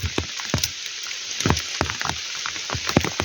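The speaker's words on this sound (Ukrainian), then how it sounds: "Під дощ, під каплі дощу." Rain falls in a summer forest, with sharp, irregular drops striking leaves and surfaces nearby over a soft, steady wash of rainfall and no voices.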